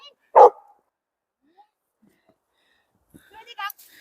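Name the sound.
dogs barking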